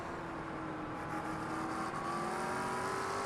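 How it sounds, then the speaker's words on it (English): A McLaren 720S GT3 race car in a sim racing game at Bathurst, its engine briefly cutting out as traction control intervenes: a loud, steady, close engine drone climbing in pitch, with a couple of brief stutters and no talk. "You may have heard briefly the engine actually cut out, and that is in reference to the traction control kicking in for a brief moment."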